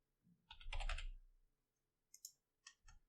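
Typing on a computer keyboard while building a web login form, a quick cluster of close keystrokes followed by a few separate taps, quiet with no speech.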